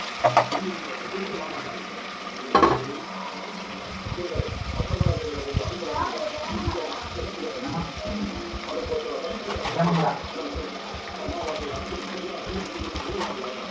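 Chopped onions frying with ginger garlic paste in a pan for biryani, a steady close hiss and crackle that runs throughout, with scraping and clatter in places.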